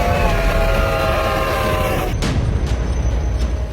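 A heavy snow-clearing train runs along the rails, a loud steady rumble with a sustained horn-like tonal blast at first, then rattling and clanking of the cars, close by.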